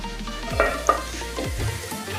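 Lemon rice being stirred to work in squeezed lemon juice, a few soft scraping strokes of a spoon through the grains at close range, with faint sizzling underneath and no talking.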